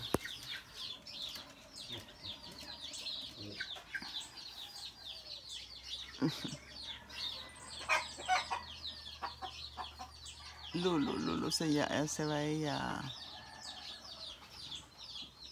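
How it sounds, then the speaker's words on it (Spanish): A rooster crows loudly nearby amid scattered clucking and chirping from other fowl, while a person laughs and talks briefly. "Mire, ahora, ahora es el otro gallo."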